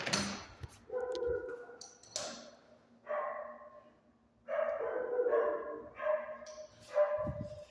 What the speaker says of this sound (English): gets his dog to bark for 2 hours